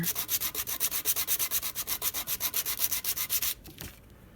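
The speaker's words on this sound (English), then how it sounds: "So I'm just going to sand it a bit, turn it around the other way, sand it some more." A small square word bead is sanded by hand in quick, even back-and-forth rasping strokes, about twenty scratchy rubs in a steady rhythm, close and alone, ending in a brief shuffle as it is turned.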